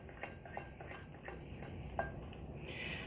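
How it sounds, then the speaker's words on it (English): Banana muffin batter is stirred in a bowl, a spoon scraping and clinking against the sides in an irregular rhythm, fairly quiet and close with no talking. "Stir, stir, stir."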